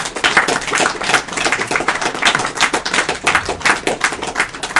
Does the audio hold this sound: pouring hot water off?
no